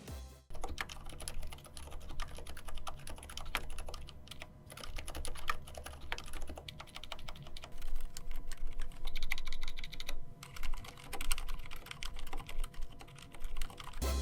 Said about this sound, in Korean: 두 개의 타건음을 비교하면